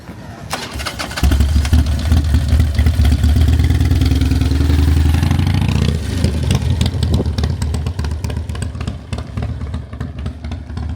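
A performance Harley-Davidson motorcycle engine fires up and runs loud and close with a deep, steady rumble, then shifts into rougher, choppier revving for the rest of the stretch.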